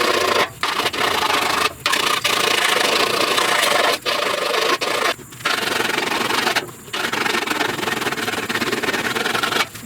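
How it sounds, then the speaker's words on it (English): A hand file works over the upper cowl panel of a 1969 Chevrolet C10 in long, loud rasping strokes, each cut off by short pauses as the file is lifted and drawn back. "Always try to come back and file."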